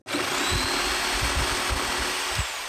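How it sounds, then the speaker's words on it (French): A jigsaw cutting wood buzzes steadily at close range, its motor whining throughout with rhythmic low chattering pulses as the blade cuts. "j'ai investi enfin dans une scie sauteuse"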